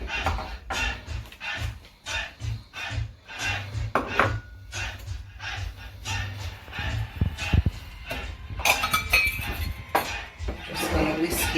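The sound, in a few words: whisking dry ingredients for patty dough in a bowl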